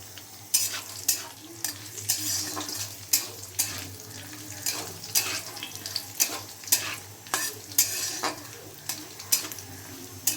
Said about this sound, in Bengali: এইবার আলুটা ওরম হালকাভাবে ভেজেই তুলে রাখবো